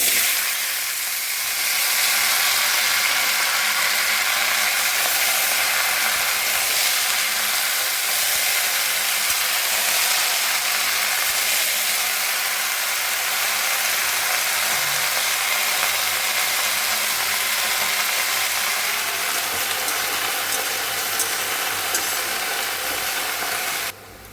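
Vegetables fry in oil tempered with whole spices, giving a steady, close hiss and crackle that runs unbroken for over twenty seconds with no voice over it.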